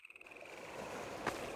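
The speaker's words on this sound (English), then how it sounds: "you can hear the wind whistling, you hear the crickets," Steady high cricket trill in Half-Life 2 at Black Mesa East, layered over a broad airy bed of wind and distant crashing waves, with a brief brighter swish near the end.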